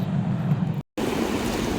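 Sea waves roll onto the beach at Mandarmani in a continuous low roar mixed with wind buffeting the microphone, broken by a brief dropout in the middle.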